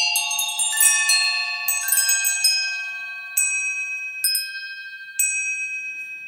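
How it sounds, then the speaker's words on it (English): Chimes kit on the DigiStix drum machine and sampler app rings out in a quick cascade of bright metallic bell tones, then a few single struck chimes spaced apart, each with long ringing decay. "But here's the chimes kit, right?"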